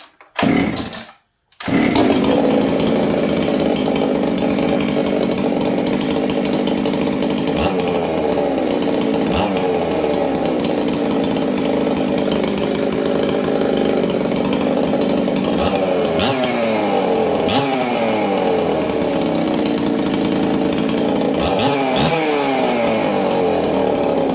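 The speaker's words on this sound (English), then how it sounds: "Okay, let's see if this saw will fire." A chainsaw starts after a brief pull and then runs steadily and loudly, with its engine revving up and down at times and no talk over it.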